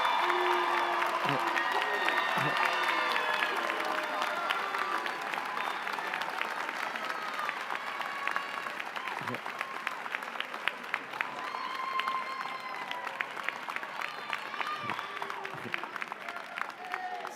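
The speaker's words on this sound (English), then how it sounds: "Please applaud one of our student actors inside the suit." Audience at a college undergraduate graduation ceremony claps in a sustained, loud round of applause with scattered cheers and a few voices, continuing throughout and easing slightly toward the end.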